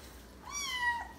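A foster kitten lets out a single rising, drawn-out meow while being dampened in a lime sulfur dip for ringworm, close and clear against a quiet background.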